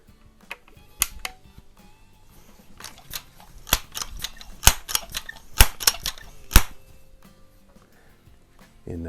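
Multi-pump air rifles, a Sheridan Blue Streak .20 and a Crosman 100 .177, fire a series of sharp, close cracks, spaced irregularly and loudest in the middle stretch, with faint clicks between shots.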